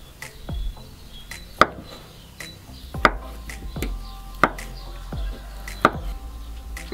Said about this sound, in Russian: Также нарезаем картофель.